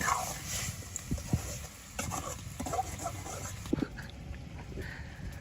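Ichha prawns sautéed lightly with turmeric in a pan in a village kitchen on Hatiya, giving a steady soft sizzle broken by scraping stirs and a few sharp knocks of the utensil against the pan.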